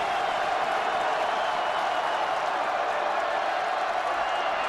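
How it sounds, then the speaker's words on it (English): A stadium crowd at a Navy at Rutgers college football game roars in a steady, even wash of cheering and applause, heard from a distance beneath an announcer's voice. "Crowd is up."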